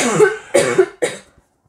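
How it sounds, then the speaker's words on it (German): A woman coughs off-camera in a few harsh, spaced bursts, three close coughs followed by silence, near and fairly loud. "meine Kamerafrau ist gerade am Husten"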